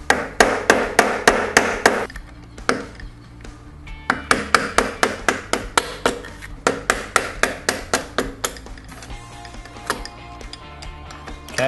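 Close, loud metallic knocks from loosening the locking spanner nut on a motorcycle suspension, struck in a steady rapid rhythm with short breaks between runs of blows.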